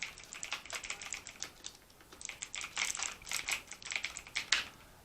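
Crisp, rapid clacking of keys on a TVS-e Gold Bharat mechanical keyboard, typed in quick uneven bursts with brief pauses, close and clear with no talking.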